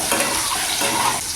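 Soybean and potato sizzle in a pan on medium gas heat with salt and turmeric, a steady, bright hiss with soft crackling that stays close and constant throughout, with no voices.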